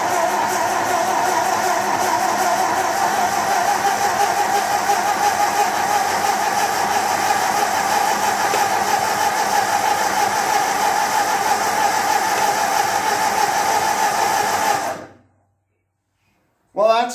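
A 1948 Ford 8N tractor engine cranks on a startup attempt, a steady churning mechanical drone lasting about fifteen seconds before cutting to silence, followed by a brief faint sound at the end.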